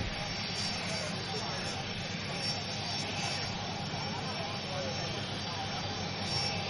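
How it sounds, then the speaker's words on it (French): A jet aircraft carrying the president of Côte d'Ivoire, Alassane Ouattara, rolls to a stop on an airport tarmac during an official welcome. Its engines give a steady, loud broadband roar throughout, with voices faintly in the background. "l'avion transportant le président de la République s'est immobilisé"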